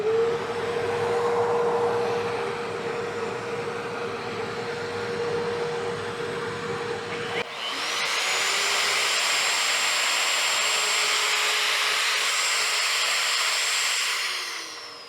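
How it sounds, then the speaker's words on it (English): A router makes a light skim cut across an old wooden chair with a shop vacuum hooked up, a steady loud whine and roar that shifts midway into a brighter, higher-pitched sustained tone, no voices. "Vacuum hooked up, router ready to go. Going to do a skim cut, a little skim cut"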